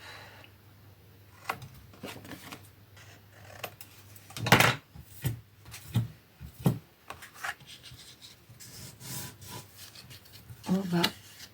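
Scissors snip and rasp through paper for a handmade scrapbook album, a few crisp cuts and rubbing strokes close by, interspersed with quiet handling noises and occasional soft talk.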